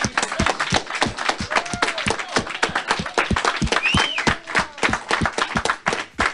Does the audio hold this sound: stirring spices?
no